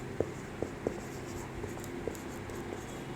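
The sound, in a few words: writing the solution by hand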